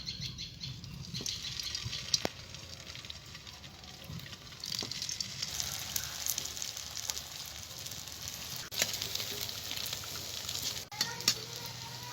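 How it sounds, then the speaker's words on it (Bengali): Potato tikki patties frying in hot white oil in a wok, giving a steady close sizzle and crackle that swells and eases over twelve seconds with occasional sharp pops and clicks. "তেলটা গরম হয়ে গেছে এবার আমি আলুর টিকিগুলোকে ভেজে নেবো"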